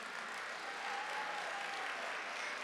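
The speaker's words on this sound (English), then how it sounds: "another round of applause for the doctor." Audience applause at a health charity gala, a steady, even wash of many hands clapping that holds at a constant, fairly quiet level throughout, with no voices on top.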